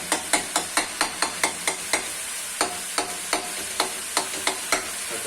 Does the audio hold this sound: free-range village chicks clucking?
no